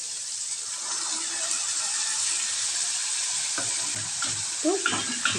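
Mustard paste and bitter gourd cook in a pan, with a continuous soft sizzle and spatula stirring and scraping that grows busier toward the end.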